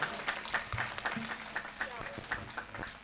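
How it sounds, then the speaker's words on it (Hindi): Scattered, uneven clapping from the audience at a Hindi comic poetry gathering, fairly faint, with individual claps and some background murmur and movement. "जो है एक बार सब आप ताली बजा दीजिए।"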